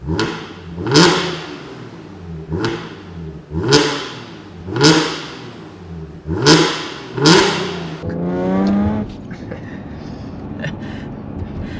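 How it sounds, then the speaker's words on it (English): A car engine with a modified exhaust revs sharply six times in a row, each a loud raspy burst fading quickly, then settles into a rough, rattling idle. "the car sounded rather raspy"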